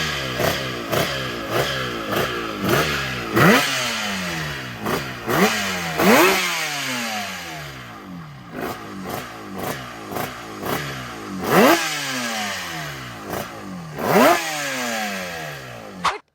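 A Yamaha RD350 motorcycle engine, modified to run in reverse, revs again and again in sharp bursts, rising and falling, close and loud with no voices.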